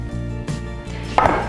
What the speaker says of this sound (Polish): A ziemniaki po prostu obieram, kroję na ćwiartki